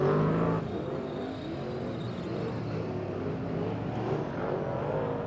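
Superstock race cars thunder around a short oval on the final lap of a teams race, engines roaring loud and continuous with shifting revs as the pack passes, crowd and track noise beneath.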